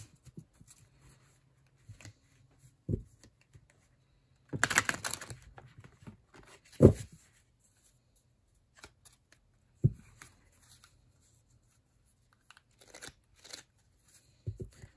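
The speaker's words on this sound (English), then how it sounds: "So right out of the box, they do shuffle well." Oracle cards are shuffled in a couple of quick riffling bursts, separated by soft taps and handling noises in a quiet room.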